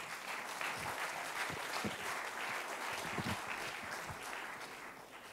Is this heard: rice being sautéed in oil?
no